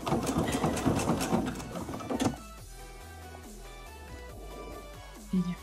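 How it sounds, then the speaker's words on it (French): A sewing machine stitches along the fabric edge of a hanging basket made from an Odile Bailloeul pattern. It runs in a busy, close whir for about two seconds, then falls quiet with faint ticks and a short burst near the end. "je vais coudre bien le long du bord, tout en tournant en fait ici autour"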